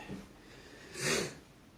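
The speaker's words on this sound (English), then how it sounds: "I'm sniffing a lot." A single sharp sniff through the nose, close and brief, rising out of quiet room noise.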